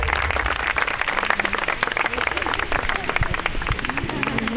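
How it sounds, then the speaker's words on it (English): Applause and cheering from a small golf crowd after Kim Lou's shot at the Omega European Masters, dense clapping sustained throughout at moderate distance with voices mixed in. "Bravo Kim, des applaudissements"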